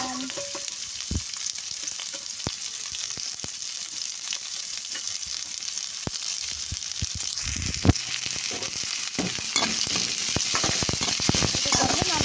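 Sliced onions hit hot oil in a pan with lightly roasted dried chillies and sizzle loudly and steadily, with crackles and stirring scrapes layered over the constant frying hiss.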